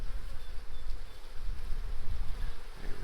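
Honey bees buzz steadily inside an open hive during a hive split with a queen excluder, a dense, continuous near drone from many insects with no talk over it.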